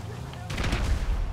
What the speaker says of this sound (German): Oder was explodiert? Meine Granate.